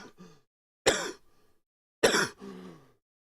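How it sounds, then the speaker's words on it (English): Two sharp coughs break out close to a microphone in a quiet room, each a short harsh burst followed by a rougher throat-clearing tail, with faint mumbling at the start. "that was a stealth cough"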